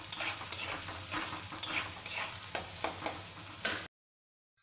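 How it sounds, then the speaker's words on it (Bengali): Onion and cumin sizzle in a pan while being stirred, a continuous close frying hiss with regular scraping strokes, then a sudden cut to silence near the end. "আর জিরা পেঁয়াজটা দিয়ে ভেজে নিচ্ছি।"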